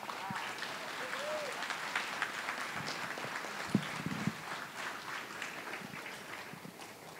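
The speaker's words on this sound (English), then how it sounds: "And a big round of applause for these guys." Scattered applause for honored students rises from the audience at a school board of education meeting, thin and fairly quiet, with a couple of isolated louder claps and low murmuring under it.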